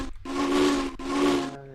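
Steam locomotive whistle in Minecraft with the Immersive Railroading mod, sounding two long loud blasts with a short break between them, hissy and sustained, no talking.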